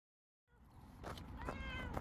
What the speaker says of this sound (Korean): 아유, 우리 야옹이, 노랭이, 아이고.